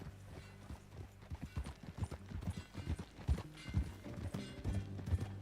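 Horse hooves clip-clopping at a walk in the video game Red Dead Redemption 2, a steady uneven patter of soft thuds, fairly close and quiet.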